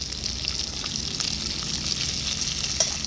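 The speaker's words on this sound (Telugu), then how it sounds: "ఇప్పుడైతే ఇవి కూడా ఫ్రై చేసేసుకుందాం." Onions and capsicum fry steadily in a hot pan for chilli chicken, a continuous close sizzle with a light crackle that holds evenly throughout, no voices.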